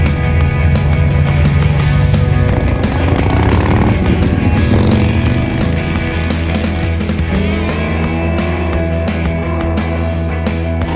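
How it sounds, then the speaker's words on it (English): A motorcycle with a loud exhaust runs close by, its engine note rising and falling through several rev changes over a steady, rough drone. "A person with a loud exhaust noise."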